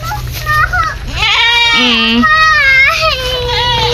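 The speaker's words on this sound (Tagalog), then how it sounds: "Yung isang kambing o, buntis yan." A pregnant goat on a small rural homestead bleats loudly and close, a few wavering cries rising and falling, with people talking nearby.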